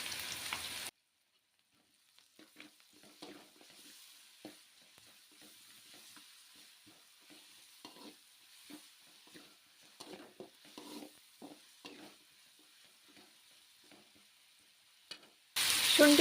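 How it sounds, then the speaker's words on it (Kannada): Ginger garlic paste frying in a pan for noodles, a quiet, close sizzle with a series of light stirring scrapes and taps, fairly faint overall after a brief louder burst at the start. "ಶುಂಠಿ ಬೆಳ್ಳುಳ್ಳಿ ಪೇಸ್ಟಿಂದ ಹಸಿ ವಾಸನೆ ಹೋಗೋವರೆಗೂ ಫ್ರೈ ಮಾಡ್ಕೊತೀನಿ"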